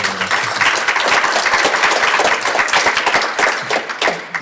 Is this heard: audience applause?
yes